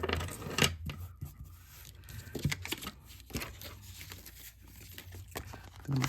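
Washi tape being handled and torn for a planner, with soft close crinkling, rubbing and short ripping sounds scattered irregularly over a quiet background.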